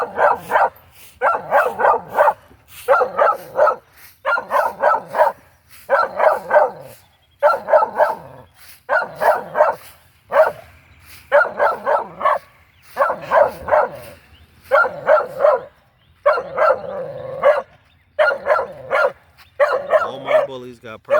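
An American Bully dog barks over and over in rapid bursts of several barks each, loud and close, with short pauses between the volleys.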